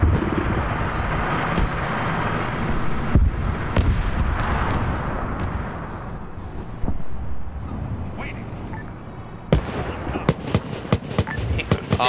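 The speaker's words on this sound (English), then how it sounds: "the flak gun is tearing that little parachute apart" A flak gun in a WW2 tank-battle video game fires amid a roar of wind-like rumble and battlefield noise, with sharp repeated bangs clustering toward the end.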